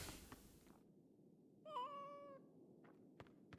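A single cat meows in the game Masquerada: Songs and Shadows, one clear, drawn-out mid-pitched cry of about a second, heard close over a quiet background with a few faint clicks around it.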